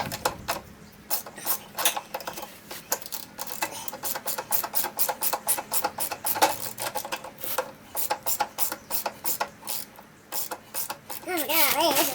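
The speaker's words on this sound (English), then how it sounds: "We're turning some wrenches" Ratchet wrench turning bolts on a trailer hitch install, giving a long run of quick, rhythmic clicking bursts up close, with brief pauses between strokes and no talking.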